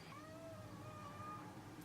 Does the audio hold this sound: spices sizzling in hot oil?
no